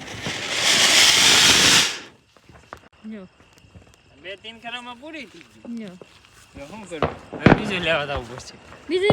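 A loud, steady hissing roar of a flower pot fountain firework burning for about two seconds at a village Diwali, then it cuts off and people chat nearby.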